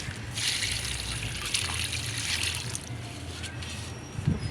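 Water trickles steadily onto potted garden plants, a continuous splashing stream that runs for several seconds at close range with no talk.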